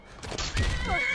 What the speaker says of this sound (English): Stop beating my horse up.